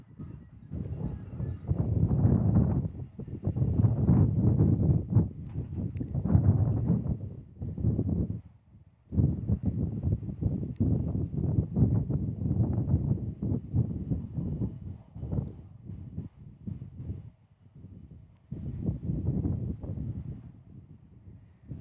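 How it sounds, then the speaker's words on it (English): Steady, blustery wind buffets the microphone at an airport with a strong headwind, gusting in long waves with a brief lull midway; no talking. "This is a serious headwind"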